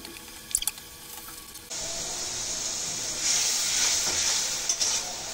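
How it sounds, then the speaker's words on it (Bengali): Salt, turmeric, chili and cumin masala stirred in a hot pan: a few light taps of the spoon, then a loud steady sizzle and hiss that swells and holds, close-up and without speech. "লবণ, হলুদ, ঝালের গুঁড়ি আর সামান্য জিরের গুঁড়ি দিয়ে নেড়েচেড়ে মশলাটি সুন্দর করে"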